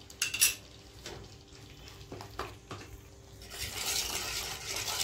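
Yogurt and masala being sautéed in a pan for shahi mix veg, with a few sharp spoon-on-pan clinks and scrapes early on, then a rising hiss of sizzling toward the end, quiet and near with no talking.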